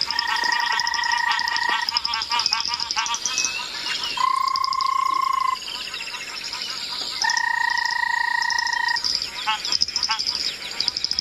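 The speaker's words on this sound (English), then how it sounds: "like telephone sounding one is a banded rubber frog" Banded rubber frogs give loud, steady, telephone-like trilling calls in bursts at sunrise in the African bush, layered over a dense chorus of chirping birds and insects.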